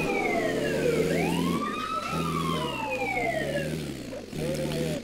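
A police car siren wails in rising and falling sweeps in the video game GTA 2, loud and close over engine noise, cutting off briefly before starting again.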